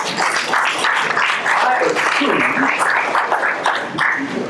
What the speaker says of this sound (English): Give a round of applause, folks.